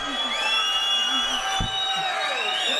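A congregation at a Sabbath service in a large hall cheers and shouts praise. The crowd noise is loud and steady, with high whoops and raised voices close together.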